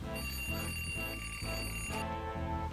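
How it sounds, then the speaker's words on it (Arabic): A steady electronic alarm rings continuously in a fast repeating pattern, loud and unbroken throughout, with no voices. "طفي المنبه ازعجت الحاله"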